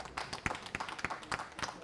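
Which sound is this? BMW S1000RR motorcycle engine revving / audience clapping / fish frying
audience clapping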